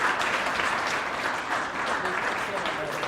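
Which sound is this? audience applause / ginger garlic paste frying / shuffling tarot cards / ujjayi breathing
audience applause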